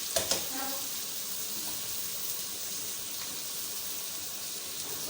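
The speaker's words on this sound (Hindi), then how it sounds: "पहले मैंने ऑयल रखा है, ऑयल को गर्म किया। अब इसके अंदर मैं प्याज ऐड करती हूँ।" Onions sizzling steadily in hot oil for bindi gosht, a broad even frying hiss with a couple of brief clatters right at the start and no talking.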